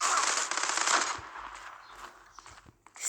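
Rapid automatic gunfire from a gun in the online shooter Zula, a dense burst for about a second that trails off into scattered shots and clicks.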